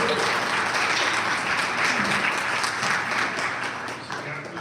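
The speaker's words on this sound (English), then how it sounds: "Big round of applause again for Dan." Dense audience applause for a comedian at a live actors' studio show, loud and continuous clapping throughout, tapering slightly at the end.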